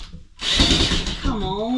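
A power drill drives a screw into wood during a cabin repair, a steady close whirring burst of about a second, followed by someone talking.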